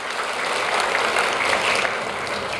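A church congregation at a Sunday service applauds the behind-the-scenes team, dense steady clapping from many hands throughout, fairly loud and even, with no talk over it.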